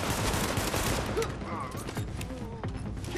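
Sustained automatic fire from an LMG in the Tom Clancy's The Division shooter, a dense volley that crackles for about a second and then thins into scattered distant shots and mechanical rattles.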